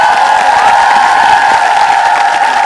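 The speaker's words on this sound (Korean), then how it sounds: "우리 모두 다시 한번 더 박수를 드리고 싶습니다." A lecture audience applauds steadily, a dense wash of clapping with a faint cheer mixed in, loud and close.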